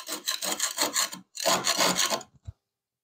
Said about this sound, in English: The next step will be just to clean this up, probably scrape off all this old glue.